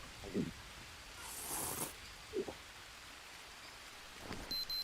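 Rainfall in the Green Hell jungle forms a faint, steady hiss, with a few soft low thumps of drops or distant rumble scattered through it and no talking.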